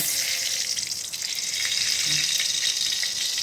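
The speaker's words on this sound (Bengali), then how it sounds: "তো তেলটা আমি দিয়ে দিছি, এখন সামান্য একটু ঘি দিব।" Ghee hitting hot oil in a pan while cooking a vegetarian potol and dal curry, a steady bright sizzle and crackle that holds at an even level from start to finish.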